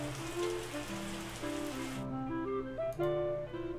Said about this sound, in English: Oh my god, how much rain is there?